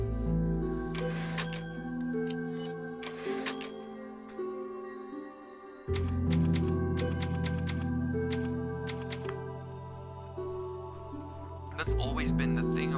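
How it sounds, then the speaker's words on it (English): Typewriter clatter from Resident Evil 4, bursts of rapid mechanical key strikes and clicks over a tonal music bed, with pauses between the clusters. "That's always been the thing of Resident Evil, isn't it? Typewriters."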